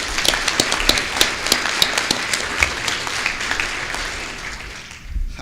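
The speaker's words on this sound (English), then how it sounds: "One more round of applause for our panelists this morning." Audience applause for panelists at a high school panel discussion forum: dense, steady clapping with sharp individual claps standing out, holding strong and then thinning and fading toward the end.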